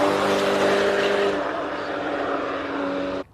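Porsche race car at a hill climb, the engine roaring loud and close as it accelerates, then the pitch settles into a sustained high drone as it moves off before cutting away.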